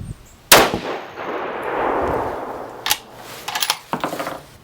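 A 6.5 PRC rifle fires one loud, sharp shot with a 140gr ELD-M round, followed by a short hiss and a few light metallic clinks and rattles.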